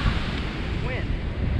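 Strong onshore wind at Vilano Beach buffets the microphone in a constant low roar, mixed with the wash of surf, while a voice briefly sounds beneath the gusts.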